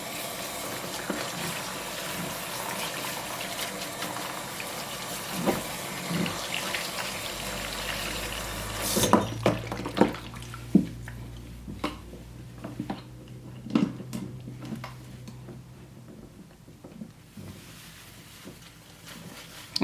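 Water pours steadily over shampooed braids during a rinse. A continuous splashing rush fills the first half, then gives way to quieter drips, splashes and handling sounds close by.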